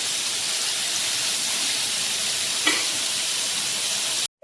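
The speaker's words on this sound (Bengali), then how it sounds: "এই যে একটা কড়াইতে সর্ষের তেল দিয়ে পনিরগুলোকে একদম হালকা হালকা করে ভেজে নেব।" Paneer pieces shallow-frying in mustard oil in a wok, giving a steady, close broadband sizzle that holds level throughout, with one brief sharper spatter near the end before it cuts off.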